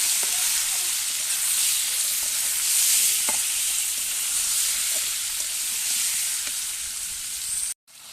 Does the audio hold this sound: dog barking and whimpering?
no